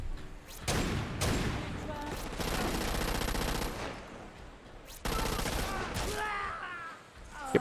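Rapid automatic gunfire and bursts of shooting in the video game Crackdown 2 during a stronghold assault, loud and sustained for most of the stretch with brief lulls between volleys.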